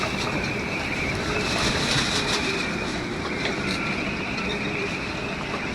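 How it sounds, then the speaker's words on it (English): Strong coastal windstorm wind roars steadily, a broad rushing noise buffeting a sailboat without letup, with no clear voices. "Definitely windy."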